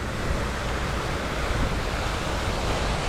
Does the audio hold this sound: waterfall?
yes